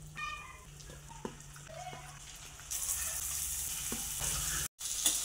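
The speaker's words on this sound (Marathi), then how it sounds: "याला चांगलं तेलामध्ये आपण परतून घ्यायचं आहे" Mutton mince balls frying in oil, a fairly quiet, steady sizzle that grows louder partway through, with a few light knocks and stirring sounds.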